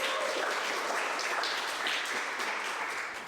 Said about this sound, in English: So if you could give them a big cheer